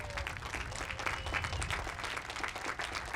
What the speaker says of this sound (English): Round of applause for B5.